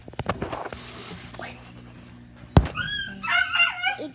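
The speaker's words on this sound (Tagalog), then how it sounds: "Kalok-lokan ng aso ko." A pet dog yips and whimpers near a house, with short barks early, a sharp bump midway, then high whining cries that rise and fall toward the end.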